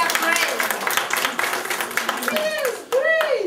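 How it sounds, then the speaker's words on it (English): Classroom audience of students and teachers clapping together in a steady patter of applause, with children's voices and chatter mixed in and rising toward the end. "let's clap for this"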